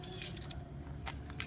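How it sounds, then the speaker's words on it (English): Car keys jangle briefly in quick metallic bursts by the trunk of a 2014 Honda Accord, close and fairly faint over a low background rumble. "if I were to accidentally leave the keys in the trunk and I try to close it, see, it won't let me do it"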